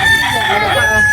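A rooster crows loudly and close by, one sustained call that fills the short moment on its own.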